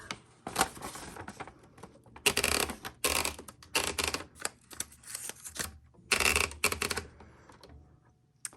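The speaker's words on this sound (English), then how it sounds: "let's load a piece of paper and do a typing demo" A 1962 Olympia Splendid 33 manual typewriter has a sheet of paper loaded, with ratcheting platen clicks, then clattering keystrokes come in uneven bursts separated by short pauses, close and crisp.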